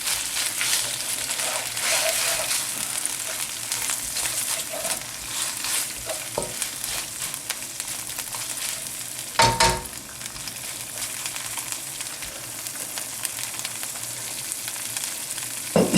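Lamb frying in a pan while being stirred, a steady loud sizzle under repeated scraping stir strokes, with one sharper clatter partway through; close up, no talk.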